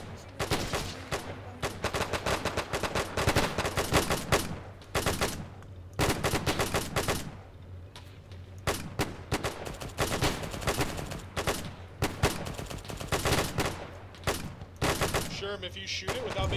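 Bren light machine gun firing in Arma 3 with a WW2 mod, loud repeated bursts of automatic gunfire with short pauses between them, close and continuous across the clip.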